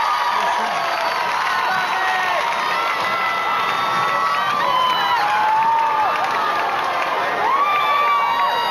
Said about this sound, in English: the noise is unbelievable. The crowds, they love him.